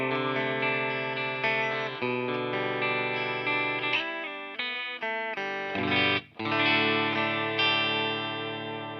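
A Harley Benton TE-62 electric guitar on its bridge pickup, through a Fender Deluxe Reverb amp, plays a run of bright, slightly gritty chords and notes, with no talk over it.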